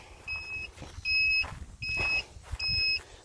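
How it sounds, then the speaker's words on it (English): A Goggo Cruise electric golf cart's turn signal beeps in four evenly spaced, bright electronic tones, each lasting about half a second, close by over a faint low hum. "And I'm gonna turn one of these turn signals on. It beeps"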